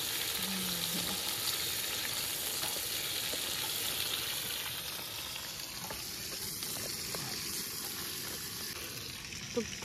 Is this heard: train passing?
no